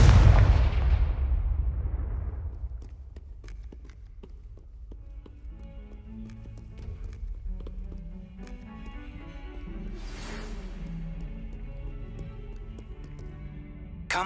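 A blasting-curse explosion in the Hogwarts Legacy video game hits with a loud, close boom that rumbles and fades over a couple of seconds, followed by scattered small impacts and faint game ambience.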